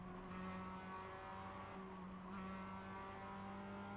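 Race cars in a sim racing game drone steadily around the track, a continuous engine hum with sustained tonal whine, faint and distant-sounding throughout.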